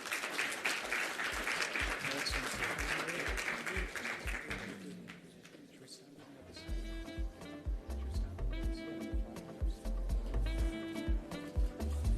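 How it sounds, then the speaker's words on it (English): Audience applause at the closing ceremony of the Global African Hydrogen Summit, a dense burst of clapping for the first few seconds that gives way to music and mixed hall sound. "Massive round of applause, please."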